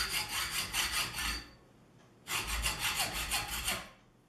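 Two strokes of hand sawing through 1/4 inch square steel stock form a rhythmic rasping back-and-forth, close and moderately quiet, with a short pause between the two bursts.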